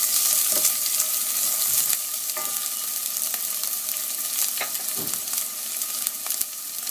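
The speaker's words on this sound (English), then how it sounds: "Make sure my onions are well mixed with my oil here and my cumin seed." Onions and cumin seed frying in oil while being stirred, a loud continuous crackling sizzle with occasional scraping stir strokes, close up and with no one talking over it.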